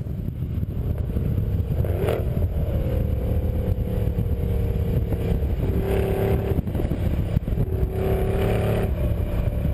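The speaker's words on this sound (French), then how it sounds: "Avec l'échappement Brabus, le son est plus grave et on peut entendre au démarrage les turbos se mettre en route." A Brabus B63-620 Mercedes with a Brabus exhaust driving on a circuit: a loud, continuous engine roar with rising tones as it accelerates and shifts through the gears.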